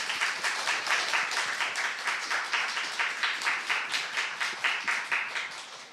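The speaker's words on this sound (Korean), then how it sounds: "이 자리 함께 해주신 두 학생분들께 다시 한번 큰 박수 부탁드립니다" Audience at a university lecture forum applauding steadily, a dense, sustained wash of many hands clapping close by, with no voices over it and a slight fade near the end.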